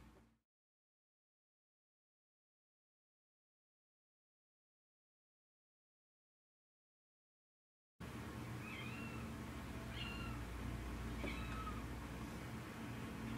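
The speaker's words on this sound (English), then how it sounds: "Now my cat's just gonna meow." After a long silence, a cat meows a few times at close range over steady background noise and hum.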